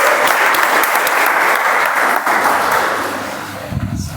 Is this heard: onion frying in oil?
no